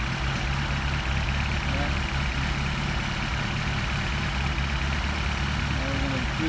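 A Mercedes 190SL engine idles on Solex carburetors with a steady low rumble throughout, and a person briefly speaks over it.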